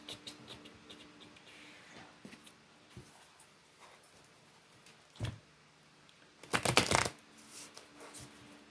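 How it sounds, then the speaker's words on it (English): Tarot cards being shuffled by hand, a soft papery riffle and rustle that swells into a brief louder burst of flicking cards near the end, close and otherwise quiet. "I've shuffled the cards"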